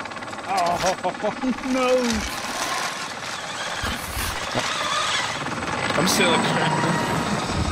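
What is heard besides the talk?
helicopter in a video game (Call of Duty Warzone Rebirth)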